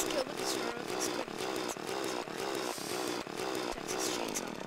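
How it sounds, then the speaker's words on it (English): Chainsaw in the video game Terraria, a buzzing, rasping motor whine that runs continuously under game sounds and music, moderately quiet. "Chainsaw. I wish you could just kill the Destroyer with this"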